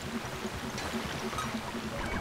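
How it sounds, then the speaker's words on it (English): Flowing water in the space video game Lovers in a Dangerous Spacetime: a soft, continuous bubbling rush with faint gurgles, steady and fairly quiet throughout. "I like the sound of the water."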